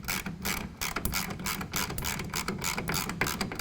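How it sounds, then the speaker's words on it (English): A half-inch ratchet tightening the clamp screws of a GatorTrax electric retractable tonneau cover on a 2012 Ford F150, a rapid continuous clicking of the pawl, close and loud, with no talking. "we'll tighten it down just till it's snug with a 1/2 inch ratchet"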